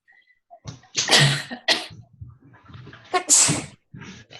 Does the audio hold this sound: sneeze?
yes